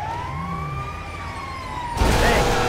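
An ambulance siren wails steadily in the Grand Theft Auto 5 video game, a loud sweeping tone that jumps to a harsher, brighter cycle near the end, with a vehicle rumble underneath.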